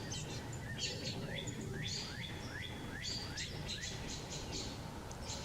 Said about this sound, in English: Oh, we got birds in here?